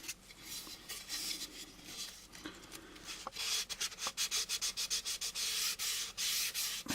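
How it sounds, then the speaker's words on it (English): Primer on an AMT U.S.S. Enterprise model kit is sanded by hand, first in slower rough rubbing, then in a quick, even run of close, scratchy back-and-forth strokes. "So there's two reasons to sand this."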